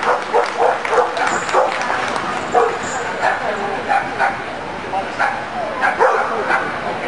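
Excited yipping dog barks repeat in quick bursts, mixed with whimpers, over a lively crowd and commentary voices at a dog weight-pulling competition.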